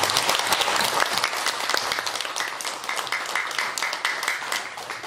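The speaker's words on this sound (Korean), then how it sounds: "크게 박수 다시 한번 부탁드립니다" Large audience applauding at a Buddhist dharma assembly at a temple in Gwangju, a thick, continuous roar of many hands that stays loud throughout and tapers slightly toward the end.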